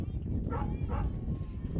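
A dog at a softball sectional game barks twice in quick succession, a short burst amid crowd noise and background talk.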